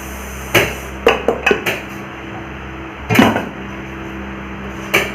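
Sharp metallic clinks and scrapes of a spoon against a metal plate come in a few irregular bursts between quiet pauses.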